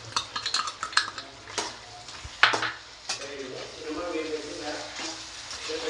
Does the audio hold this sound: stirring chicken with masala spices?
yes